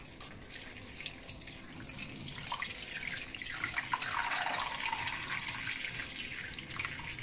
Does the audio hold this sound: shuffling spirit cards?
no